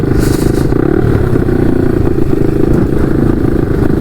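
A 150 RXF pit bike ridden with friends, its single-cylinder engine loud and close with a rough, pulsing note that eases as the rider pulls the clutch, plus some rattling clatter from the bike.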